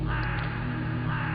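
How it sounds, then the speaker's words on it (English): A crow caws in a single harsh, drawn-out call, loud and close, over a steady background hum. "A crow."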